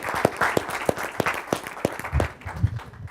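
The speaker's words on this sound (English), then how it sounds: "let's just give everybody another round of applause" Audience at a SparkTank reception and project update giving another round of applause, heard as scattered hand claps with a few sharp, distinct claps standing out, moderately close and steady for the whole stretch.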